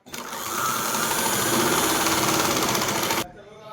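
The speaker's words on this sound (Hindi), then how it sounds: "चलिए हम आसन सिल लेते हैं इसके, जो हमारा फर्स्ट पार्ट है उसका।" A sewing machine runs in one continuous fast burst for about three seconds while stitching the seams of palazzo pants, loud and close, with a rapid mechanical rattle. It then stops abruptly, leaving a quiet room.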